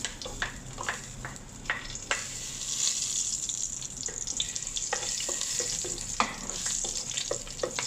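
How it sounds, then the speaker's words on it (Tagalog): Garlic sizzles in hot cooking oil in a pan, a steady moderate frying hiss broken by repeated sharp scraping strokes of a utensil stirring it, close by with no talk. "Mainit na ang ating lutuan. Lagyan natin ng yan, mantika. Painit na siya guys. Pwede na natin ilagay yung bawang."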